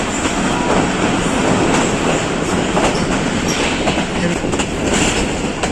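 The Kohat Express, a Pakistan Railways passenger train, rolls loudly along the rails with continuous rumble, rattling carriages and clicking wheel joints heard from on board, with no talk.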